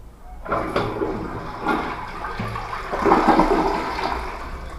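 A toilet flushes nearby, a sudden rush of water swirling and gurgling steadily down the bowl for several seconds.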